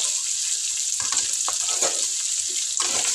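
Brinjal curry with turmeric being stirred in a hot pan: a steady frying hiss runs throughout, broken by a few scraping stir strokes, with no talk.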